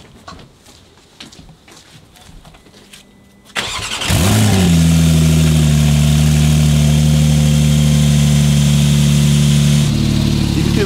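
Porsche 911 Turbo S with a titanium race exhaust starting up after a stretch of quiet background, then settling into a loud, steady, rumbling idle that holds for several seconds.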